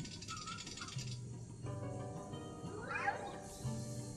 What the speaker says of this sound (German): Komm her, du kleine miese Katze.